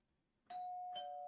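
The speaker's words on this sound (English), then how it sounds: "It's still early when you hear your doorbell ring." A doorbell chimes indoors, two clear ding-dong tones ringing out after a near-silent start and sustaining to the end, close and bright against a quiet room.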